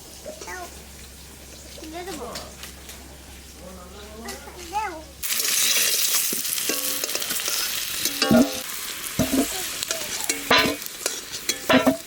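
Onions fry in a pan, first quietly under talking voices and then bursting into a loud, continuous sizzle with stirring scrapes, while people keep speaking over it.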